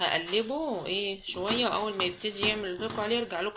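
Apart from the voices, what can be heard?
No everyday noises stand out.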